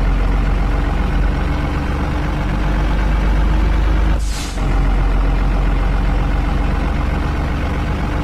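Heavy truck engine from a car-transport truck simulator game, a steady low drone running throughout with a brief hiss like an air brake release near the middle, loud and close with no talk.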